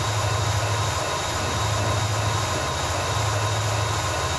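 A freight locomotive in Transport Fever rumbles steadily and continuously as its diesel engine drone rises and eases under changing throttle, with a low hum pulsing beneath a constant rolling roar.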